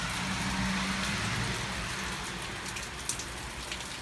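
Steady rain falls outside with a continuous hiss and patter and a low engine-like rumble underneath, with no one speaking.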